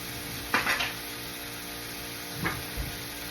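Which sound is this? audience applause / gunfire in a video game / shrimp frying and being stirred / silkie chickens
shrimp frying and being stirred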